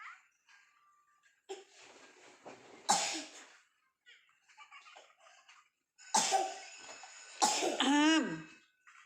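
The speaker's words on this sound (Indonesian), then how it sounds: "Batuknya nggak sembuh-sembuh itu, nak." A child coughs in several harsh bursts, some close and loud, with quieter rustling and small sounds in between.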